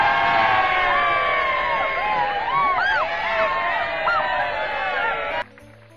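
Loud crowd cheering and whooping, dense and continuous with excited shouts over the top, celebrating Bayonetta joining Smash Brothers, then cutting off abruptly near the end.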